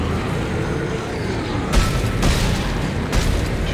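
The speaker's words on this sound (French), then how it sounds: "Je tire sur un truc là" Gunfire in the sci-fi horror game Dead Space 3: a few heavy booming shots, roughly three, land over a dense, steady rumble of game ambience.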